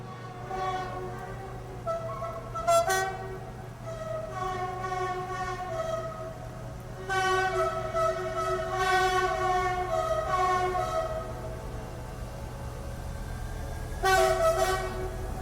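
Locomotive in the city-building game Cities: Skylines, with a sustained chord-like engine drone and repeated horn toots near the start and end, steady and fairly loud.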